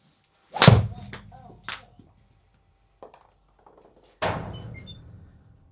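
A golf club strikes a ball during a swing-speed test measured by a Trackman launch monitor and a speed radar, giving one sharp, loud, close crack near the start, followed by a softer knock and a later thump with no talking.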